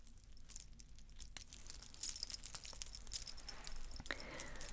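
Faint metallic jingling and light clinks as a statement necklace made of zips with long leather strings is handled and fastened, quiet and close.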